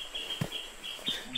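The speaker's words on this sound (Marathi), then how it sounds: "आता हा पक्ष्यांचा आवाज बरा वाटतंय." Birds call outdoors at Sagargad Fort, giving a few short, high chirps and trills over a quiet background, with no one talking.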